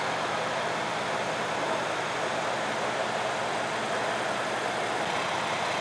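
A Brabus S Class with a 6-litre V8 bi-turbo engine idles in a steady, dense rumble that holds at a constant level throughout, with no voices over it.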